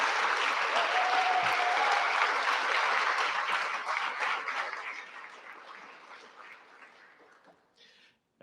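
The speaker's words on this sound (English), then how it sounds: "hope that you guys are willing to give an applause to Kevin Simmons" Audience applause closing a session at a SmallSat education conference, a dense, loud wash of clapping that holds steady for several seconds, then thins out and fades, with a brief stray sound at the very end.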